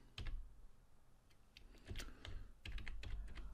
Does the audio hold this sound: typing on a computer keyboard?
yes